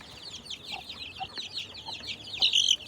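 Small birds peep and cluck in quick, high chirps, close by, growing slightly louder toward the end.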